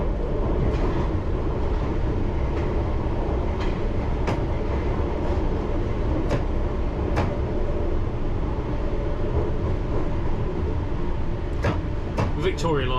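London Underground train pulling away from the platform at Finsbury Park, heard from the driver's cab as a steady rumbling roll with rhythmic clicks of wheels over rail joints and a brief squeal near the end.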